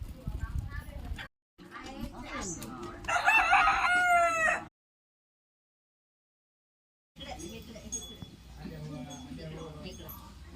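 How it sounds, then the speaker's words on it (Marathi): A rooster crows once loudly and close by, a rising, strained call that breaks into harmonics. People talk before and after it, and there is a stretch of silence in the middle. "हे बघ कोंबडी आली."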